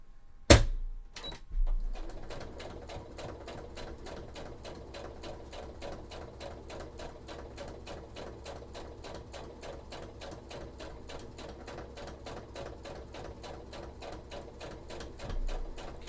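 A sewing machine stitches cosplay sleeves for an Artillery Witch costume, running in a fast, even, continuous patter for several seconds after a brief thump at the start, up close and with no talk.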